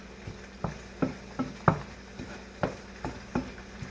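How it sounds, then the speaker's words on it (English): Tilapia and onions fry in a pan under a steady low sizzle, cut by about ten sharp utensil knocks and scrapes in an uneven rhythm as the onions are stirred, close by, with no voices. "Alright, now that that's sizzling, we're going to move these onions around in here."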